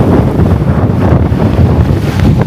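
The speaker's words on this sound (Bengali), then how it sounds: "আমি জানি না আমার ক্যামেরায় পানির শব্দ আসতেছে কিনা।" Wind and river water rushing past a passenger launch travelling from Dhaka to Munshiganj, a loud continuous roar with splashing waves and heavy wind buffeting, no talk.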